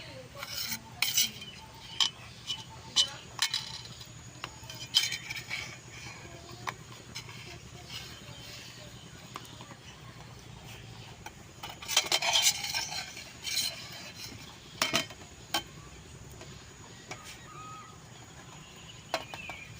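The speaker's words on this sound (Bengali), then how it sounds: "এই চামচের গুঁড়া দে এরকম করে সুন্দর করে উঠিয়ে নেব।" A metal spoon scrapes and lifts dried green mango leather off a plate in a home kitchen, making intermittent light scratches and clinks, soft and close, with occasional quiet background sounds.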